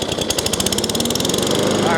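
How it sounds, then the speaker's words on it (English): A Toro 21-inch Recycler self-propelled lawn mower engine runs steadily at close range, a continuous buzzing drone with a rapid pulsing rhythm throughout. "So with the mower still running, that is good."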